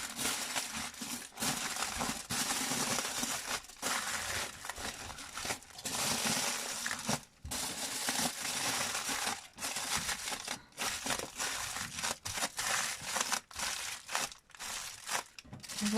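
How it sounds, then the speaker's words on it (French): Aluminium foil crumpled and folded around a herb-roasted lamb shoulder being wrapped for the oven, giving repeated close crinkling and crunching bursts broken by short pauses, with no talk. "Après, le papier aluminium."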